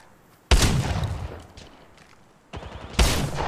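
Gunfire in the mobile shooter Apex Legends Mobile, likely an R-301 rifle or EVA-8 Auto shotgun, with two loud, close bursts of shots, each ringing out and decaying, separated by a quieter gap.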